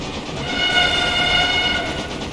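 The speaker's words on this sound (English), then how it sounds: "Very European sounding hooter." An 1850-era steam locomotive in Railway Empire sounds a loud, sustained, European-style horn, one continuous harmonic blast lasting a couple of seconds with a slight swell in the middle.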